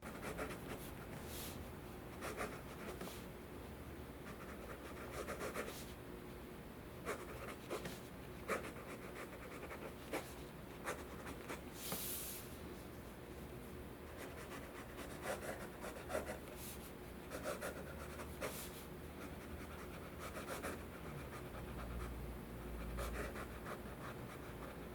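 A fountain pen inked with Noodler's Ahab scratches faintly across paper, soft steady strokes with small pauses between words, quiet and close with a low background hiss and no talking.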